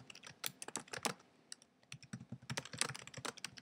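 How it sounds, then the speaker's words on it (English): Fast typing on a computer keyboard while entering a used book's condition note for an online listing, with clustered bursts of crisp key clicks and short pauses, close and alone. "I can't type and talk at the same time"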